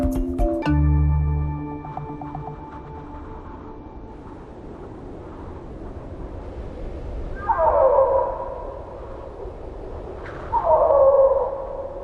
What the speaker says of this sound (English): piercing howls shatter the silence.